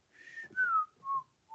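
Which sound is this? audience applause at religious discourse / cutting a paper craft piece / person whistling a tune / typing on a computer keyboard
person whistling a tune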